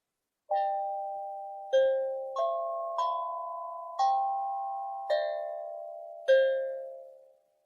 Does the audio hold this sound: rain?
no